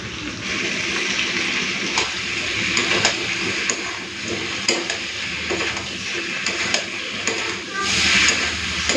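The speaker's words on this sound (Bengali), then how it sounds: "তো চিংড়িটা দেওয়ার পরে ভালো করে কষে নিয়েছি" Shrimp with potato and pointed gourd sautéed in a pan, a steady loud sizzle with repeated stirring scrapes throughout and a brief swell of hissing near the end.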